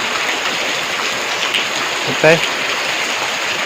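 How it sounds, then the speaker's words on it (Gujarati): Heavy rain pours down in a steady, dense hiss, with a brief louder splash or clatter near the end. "આજે પાછો જોરદાર વરસાદ ચાલુ થઈ ગયો છે"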